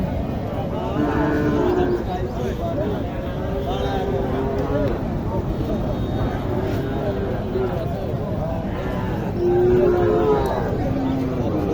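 A Sahiwal cow lows repeatedly at a busy rural cattle market in Naogaon, several drawn-out moos rising over steady crowd chatter, while people talk nearby.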